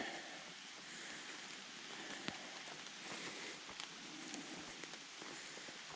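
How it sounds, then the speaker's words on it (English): Rain dripping and pattering in the woods, a dense, steady wash of drops with occasional louder individual plinks, soft and continuous with no voices. "I've missed walking in the woods with the rain dripping around me."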